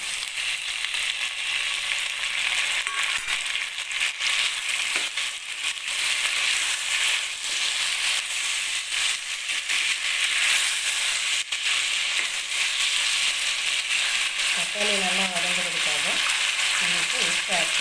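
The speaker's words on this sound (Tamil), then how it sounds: "வெங்காயம் வதங்கிட்டு பாருங்க. இந்த அளவு வதங்கினா போதும். இதில் தக்காளி சேர்த்துக்கலாம்." Onions and tomato frying in a pan, a loud, steady crackling sizzle broken by repeated scrapes and knocks of stirring, with a brief voice near the end.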